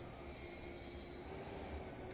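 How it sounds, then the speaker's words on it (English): A freight train rolls into a steel mill in the Transport Fever simulation game, a continuous rumbling of rail wagons with a thin, sustained wheel squeal running over it, steady and fairly quiet. "Let's just go check in with this train here as it pulls into the steel mill."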